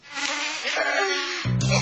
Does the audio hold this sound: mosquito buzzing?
yes